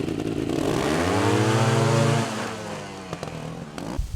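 A trials motorcycle engine revs up and holds a rising drone as the rider slips the clutch, then drops off into lower, uneven putters with a few sharp clunks, close and loud with no talk.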